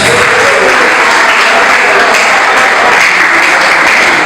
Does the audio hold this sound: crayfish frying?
no